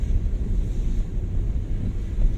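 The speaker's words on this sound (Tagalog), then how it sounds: "Ampak ng alon!" Ocean waves breaking against large boulders on the Aurora Province coast, a steady heavy low rumble and wash of surf, close and loud with wind buffeting the microphone throughout.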